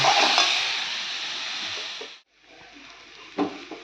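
A spice masala with chopped onion is stir-fried in a pan, making a loud, close hissing sizzle that cuts out briefly. It then returns more softly with a single utensil knock and no talking.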